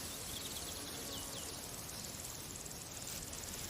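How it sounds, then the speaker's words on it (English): Insects in the British countryside at a flower show, a constant dense hiss of buzzing and chirring across the whole stretch, with a few faint high bird chirps far off. "Sounds of insects"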